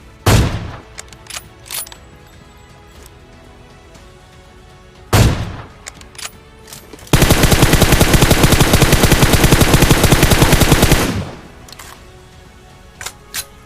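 Gunfire in PUBG Mobile: two isolated shots, then a loud sustained burst of rapid automatic fire lasting about four seconds, with scattered fainter shots around it and no talking.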